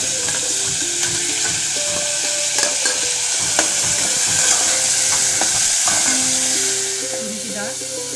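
Beetroot pieces with onion, tomato and turmeric sizzling steadily in a pan while being stirred, a loud close frying hiss with scraping stir sounds throughout and no speech.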